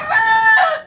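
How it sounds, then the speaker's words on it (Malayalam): A rooster crows once, a loud, close, drawn-out cock-a-doodle-doo call that rises and then trails off at the end. "ഞാൻ ഈ സംസാരിക്കുമ്പോൾ കോഴി കൂവും കണ്ടോ."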